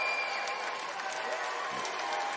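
A wrestling arena crowd applauds and cheers in a sustained, roomy wash of clapping and crowd noise. A faint tonal ring sits over the din, and a commentator's voice is partly buried under it.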